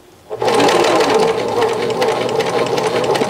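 A sewing machine starts up and runs loud and steady, stitching toward an outside corner of a sheath dress with a fast, even mechanical whir close by.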